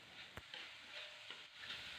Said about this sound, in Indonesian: Kita goreng bumbu halusnya dengan api kecil ya guys, karena di sini udah ada gula diulek.